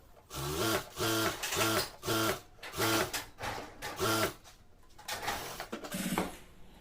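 A sewing machine stitches a bartack on a salwar: a series of about six rhythmic mechanical whirring bursts, each roughly half a second long, close and clear, followed by quieter handling of the machine and fabric.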